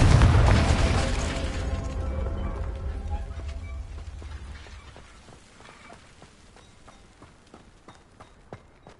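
Confringo fire spell explosion in Hogwarts Legacy near an abandoned estate: a loud, broad booming blast up front that decays over several seconds into a rumbling tail dotted with scattered crackles and pops.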